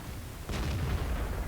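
A King Tiger tank gun firing in World of Tanks, a single heavy boom starting partway through, followed by a sustained low rumbling tail, loud and alone without speech.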